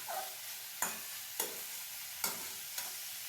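Cauliflower being stir-fried in oil in a pan for a vegetarian dish, with a steady soft sizzle and four sharp scraping stirs at regular intervals, close and fairly quiet.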